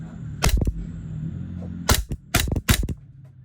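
A WE G18 GForce airsoft pistol fires on full auto in short, rapid bursts of sharp mechanical clacks. Four quick strings crack out close and loud, separated by quiet pauses with a faint background hum.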